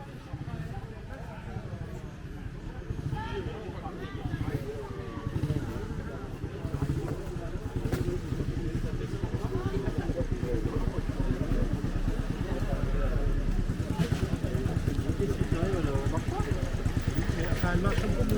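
A Suzuki RG Gamma 81 TSE two-stroke motorcycle with engine trouble runs steadily at a motorcycle gathering in Cajarc, a continuous buzzing rumble with chatter and crowd noise mixed in throughout.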